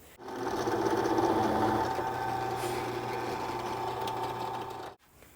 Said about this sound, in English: I'm going to take a countersink and I'm just going to chamfer the edge of these holes ever so slightly.